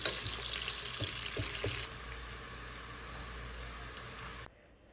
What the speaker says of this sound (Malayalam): ഒരു 2 ടീസ്പൂൺ സവാള ഒന്ന് ഇട്ട് കൊടുക്കാം കേട്ടോ. ഒന്ന് ഫ്രൈ ചെയ്തെടുക്കാം.